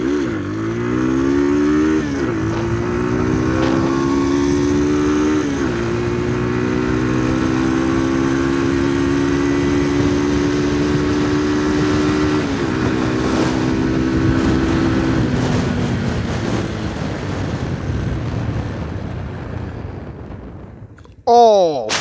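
A Falcon Freedom 250 motorcycle engine revs up through rising pitches during a torque test, holding a strong loud drone for many seconds before easing off, then a brief sharp noise at the end.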